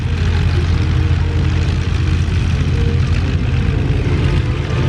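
Several propeller airplanes start up and take off in an opening formation at the Flying Circus Airshow, a loud, steady, close engine roar and drone that continues without a break, with no talking.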